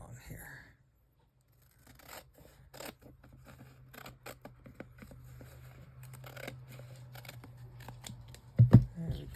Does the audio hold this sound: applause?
no